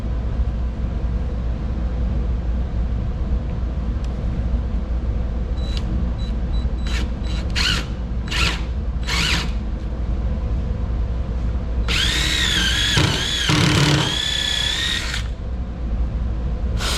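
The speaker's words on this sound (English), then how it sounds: "I've got the drill ready." A power drill bores holes into a workbench. It starts with short bursts, then gives a longer, louder whine, all over a steady background hum.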